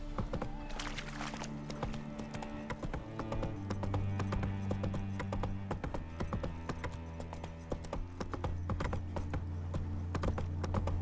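Roach, a horse in The Witcher 3, gallops with steady rapid clip-clop hoofbeats over a low music drone, with a brief whinny near the start.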